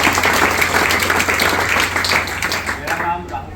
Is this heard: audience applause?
yes